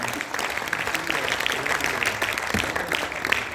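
Audience applause at a Hindi-language gathering, a dense, continuous clapping of many hands that stays fairly loud throughout without a break.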